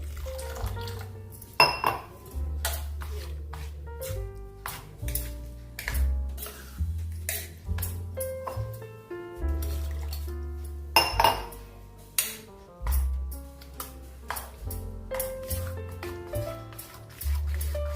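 A spoon clinks and scrapes repeatedly against a bowl of semolina batter in an uneven rhythm of sharp taps and strokes, close up, with no voices.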